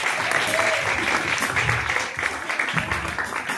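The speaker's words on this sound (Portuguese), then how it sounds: "as palmas que louvam o nome do Senhor" Steady applause from a church congregation fills the room, dense clapping holding throughout with faint voices mixed underneath.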